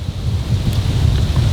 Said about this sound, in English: it's just a little bit windy out here